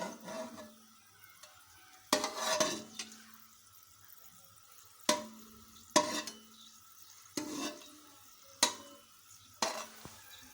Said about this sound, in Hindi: अब हम इसमें इलायची डालेंगे और इसको भून लेंगे